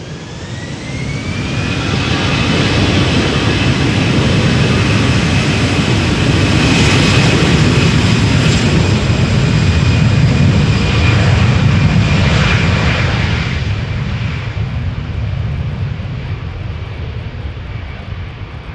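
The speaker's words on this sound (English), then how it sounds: "easyJet flight 23302 to Edinburgh, A320." An easyJet Airbus A320 jet takes off at Schiphol's Polderbaan, its engines swelling into a loud, close, roaring spool-up with a rising whine, then slowly fading as it departs.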